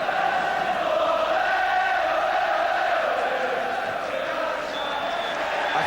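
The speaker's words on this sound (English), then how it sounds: "thunderous cheer for another championship performance from Liverpool." A huge crowd roars at a 1988 Liverpool versus Nottingham Forest football match, a loud, sustained wall of cheering that holds steady for several seconds with no break.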